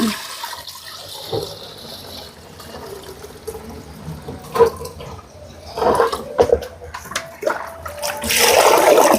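Water pouring and splashing in a container as soaked rice is washed, with intermittent sloshing and drips, growing louder toward the end.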